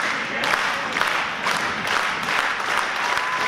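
Fans at an indoor wrestling show applaud in uneven bursts, the clapping swelling and easing several times, fairly close and lively with a few shouts mixed in.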